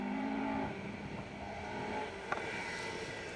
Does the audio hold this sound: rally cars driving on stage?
yes